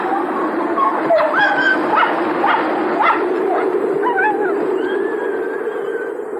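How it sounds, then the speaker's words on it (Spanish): Sled dogs aboard the ship Endurance yip, whimper and howl in an excited chorus of overlapping barks, moderately close and continuous over a dull background rumble. "Más de 50 perros serán los encargados de arrastrar los tríneos durante la travesía por tierra"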